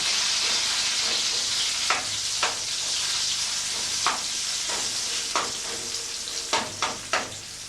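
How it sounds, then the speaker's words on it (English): Onions sizzle steadily in a frying pan, a constant bright hiss broken by scattered sharp scrapes and clacks as they are stirred every few seconds, close and fairly loud, with no voices. "Onions are doing fine, give them a stir every so often."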